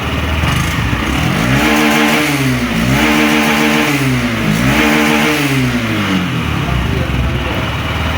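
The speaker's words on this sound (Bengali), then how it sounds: "অটো চক স্টার্ট দিলে কত সময় 1 মিনিটের মতো স্পিড বাড়বে, আর অটো কমে যাবে" A Honda SP 125 fuel-injected motorcycle engine runs at a raised idle just after starting. The steady, loud, close hum swells up and down in pitch several times as the speed climbs and settles.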